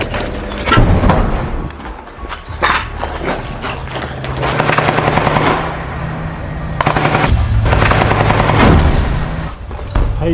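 Combat sounds from a Hamas rocket strike on an Israeli Merkava tank in Rafah: loud, dense bursts of gunfire-like cracks and heavy booms continue for about ten seconds, with no speech.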